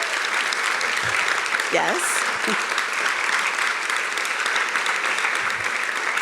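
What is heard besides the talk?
rousing round of applause at a graduation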